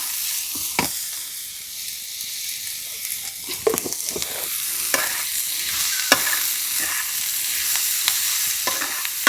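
Mixed vegetables stir-fried with salt in a pan, giving a loud, close, continuous sizzle broken by repeated stirring scrapes and clicks from the spatula.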